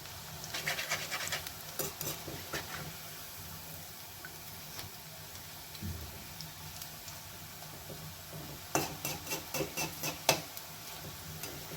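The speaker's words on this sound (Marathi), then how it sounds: "छान सोनेरी खरपूस रंग येईपर्यंत ही भजी तळायची आहेत आपल्याला." Onion and green chilli bhaji deep-frying in oil, a steady low bubbling sizzle with scattered clicks and taps of a utensil, heavier bursts of tapping near the end; no speech.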